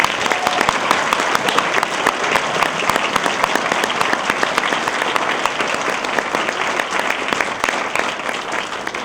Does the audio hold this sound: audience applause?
yes